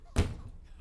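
A door slams in the video game The Baby in Yellow as a baby is launched out through it, giving one sharp, loud thud followed by a short fading rumble.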